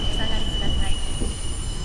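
A train in Shibuya in 428 Shibuya Scramble rumbles close and steadily, with a high, thin wheel squeal held throughout and faint rhythmic clatter.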